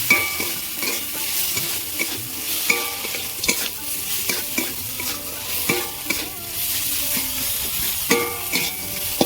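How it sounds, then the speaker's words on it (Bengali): A fish head is sautéed with ginger paste and coriander powder, a loud sizzle broken by repeated rhythmic scrapes and taps of a spatula stirring against the pan. "ভালো করে আমি এইভাবে কষিয়ে নেব মাছের মাথাটার সাথে"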